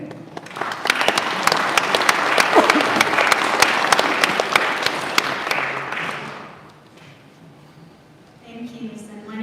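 Audience applause at a live event greeting the next MC, dense clapping building loud and steady for about six seconds before fading, with a voice starting to speak at the end.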